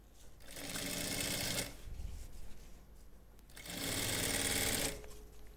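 A sewing machine stitches seams on a folding travel bag, whirring close and steady in two bursts with a quiet pause between them.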